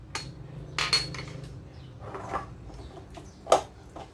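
A spoon stirs and taps through a small batch of apricot-flavoured dough mixture, giving a few sparse clinks and scrapes against the bowl, quiet and close with pauses between.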